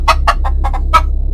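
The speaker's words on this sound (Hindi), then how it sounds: "मुर्गी जोर जोर से आवाज करने लगी।" A hen clucks loudly as someone grabs her, several sharp clucks in quick succession with a brief pause, close and clear over a steady low hum.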